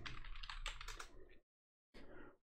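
Typing on a computer keyboard in a quiet room, a short burst of close, rapid key clicks that stops, falls silent, then resumes briefly.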